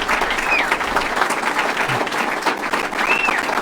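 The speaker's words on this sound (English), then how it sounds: "Roaring applause." Roaring applause from a large crowd at a Texas political event, a dense, sustained wash of clapping that fills the clip from start to finish at a steady level.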